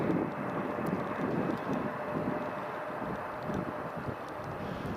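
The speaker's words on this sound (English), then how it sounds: "A220 is already taxiing, so that's just heading along to the end of the runway" An Airbus A220 taxis at snowy, freezing Riga airport, its engines a steady, broad, fairly distant roar that holds level throughout, with wind noise mixed in.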